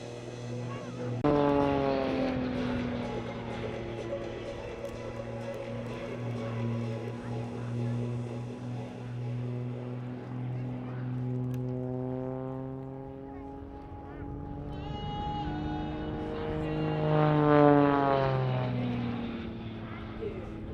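An Extra 330SC aerobatic aircraft at Sywell 2024 pulls into the vertical, its engine droning, then rising and falling in pitch as it passes, loud over a commentator's voice.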